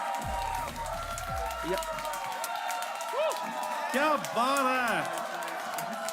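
Studio audience at a Hindi comedy show applauding, a steady spread of clapping and cheers under a voice, with whoops and excited vocal calls rising over the crowd.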